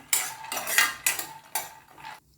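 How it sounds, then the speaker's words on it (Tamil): A metal spoon stirring a handful of raw peanuts frying in hot oil in a pan: four or five close, rhythmic scraping strokes against the pan, with no talk. "எண்ணெய் நல்லா சூடானதும் ஒரு கைப்பிடி அளவுக்கு பச்சை வேர்க்கடலையை வந்து ஆட் பண்ணிக்கிறேன் இதை நல்லா ஃப்ரை பண்ணிக்கலாம்"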